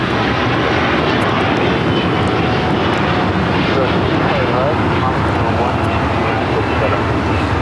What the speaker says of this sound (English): This is Air Premia Flight 102 taking off to Seoul on the 787-9 Dreamliner